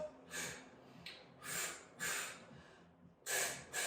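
Sharp, breathy exhales are pushed out through the nose and mouth during an abs workout. About six short puffs come in an uneven rhythm, close and fairly quiet.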